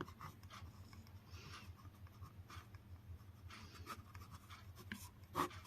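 Faint scratchy strokes of writing on a board during a Bengali maths lesson, soft and intermittent, quiet against a low background hum with no talking over them.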